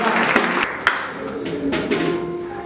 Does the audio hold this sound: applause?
yes